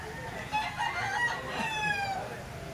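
A Boston-bloodline rooster, 10 months old, crows twice in long, strained calls at moderate distance, with light background noise.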